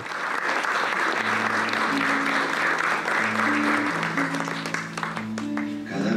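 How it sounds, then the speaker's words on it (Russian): An audience applauds steadily and densely throughout, with a tonal musical line playing underneath the clapping. "Аплодисменты. Аплодисменты."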